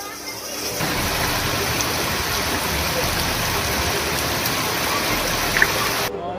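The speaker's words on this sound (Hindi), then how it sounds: "मूसलाधार बारिश ने बाड़मेर के रेगिस्तानी इलाकों को जलमग्न कर दिया।" Heavy monsoon downpour over desert areas of Barmer, a dense continuous hiss of rain hammering surfaces, loud and steady throughout with no voices.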